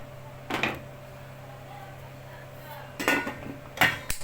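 A spoon knocks and scrapes against a pot of tomato stew in a few short bursts, separated by quiet pauses in a kitchen.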